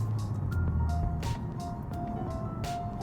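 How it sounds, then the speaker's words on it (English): An Infiniti Q60 with the VR30 engine and a loud rear exhaust, driving: a steady low engine and exhaust rumble continues throughout, with faint tonal sounds above it. "Now, the exhaust with this specific one, it's kind of loud at the back, but Jim likes it that way."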